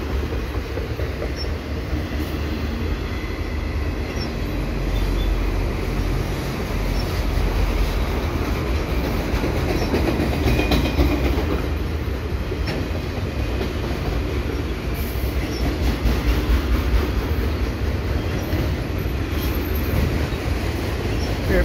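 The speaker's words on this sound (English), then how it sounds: "with a nice Kansas City Southern auto rack" Canadian National eastbound manifest freight train with Kansas City Southern auto rack cars rolling past Cedar Park station, a loud, continuous rumble of wheels on rail with clickety-clack joints and intermittent squeals, close by and sustained throughout.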